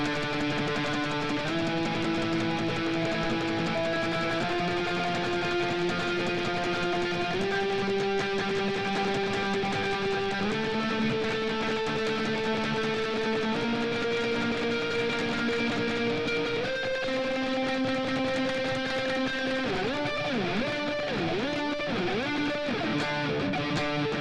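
A distorted electric guitar plays the octave-heavy bridge section, with a dense steady tremolo-picked drone stepping up through held pitches and ending in wavering bends, loud and continuous with no talk.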